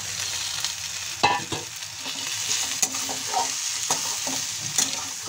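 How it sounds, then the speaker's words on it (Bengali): Fish heads tossed into fried spice masala in a pan for Bengali muri ghonto, giving a steady close sizzle with stirring scrapes and a few sharper clatters, no talking. "এখন আমি এর মধ্যে দিয়ে দিচ্ছি মাছের মাথাগুলো।"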